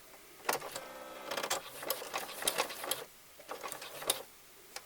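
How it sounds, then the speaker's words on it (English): A sewing machine stitching around the edge of a fabric Easter bunny pillow, running in several short bursts of rapid mechanical whirring separated by brief pauses; no talking. "I'm going to sew all the way around until I get to the other side where the other pink one is"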